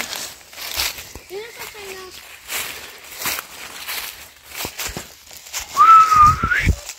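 A person whistles a few short notes, then a longer rising whistle later, nearby, between voices and light rustling outdoors.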